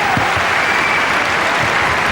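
A tennis crowd bursts into sustained loud applause after an ace in the Paris final, a steady dense clatter of clapping filling the whole moment, with little talk.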